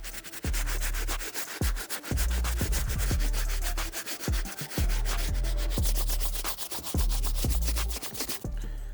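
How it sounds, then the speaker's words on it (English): Medium bristle brush scrubbing an Air Jordan 3 Tinker sneaker, loud repeated rubbing strokes in an irregular rhythm with short gaps between bursts, close and steady throughout with no talking. "get a deeper scrub using the medium bristle brush"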